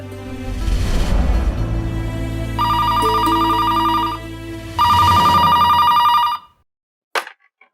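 An old-style telephone bell rings in a Hindi crime drama, loud and close, in two long trilling bursts over a low background hum before cutting off abruptly, followed by a brief click.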